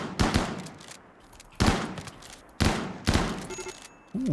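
Gunfire in RimWorld, a colony-management video game: several sharp shots land at uneven intervals, each a loud broadband crack that decays quickly, with quieter gaps between them.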